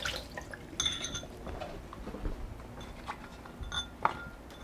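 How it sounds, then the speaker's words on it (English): Soaking water is poured off Korean rice cakes in a kitchen, heard as faint, scattered drips and splashes with a few light clinks against a container, quiet and intermittent. "So we're going to pour off the water"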